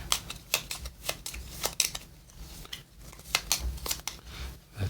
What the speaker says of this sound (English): The test cards are shuffled.